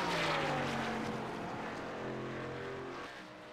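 Race cars on pit road at a short track racing series night give off a continuous droning engine rumble with layered tones that hold steady and then ease slightly in loudness; no speech.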